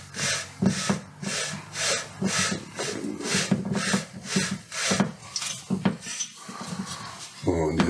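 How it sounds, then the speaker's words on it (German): The commutator of a Siemens washing machine motor is sanded by slowly turning the shaft by hand, producing a rhythmic series of close, gritty rasping strokes at roughly two per second. "drehen langsam vorne die Motorwelle und schleifen so mit dem Kollektor einmal ein bisschen ab, dass der wieder schön sauber ist und glänzt"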